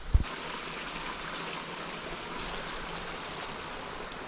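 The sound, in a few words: waterfall flowing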